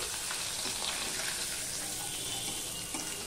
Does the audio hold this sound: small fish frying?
yes